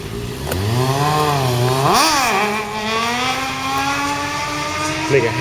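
A motorbike engine revs hard and close, its pitch rising and swooping through several throttle blips before holding a high, buzzing drone.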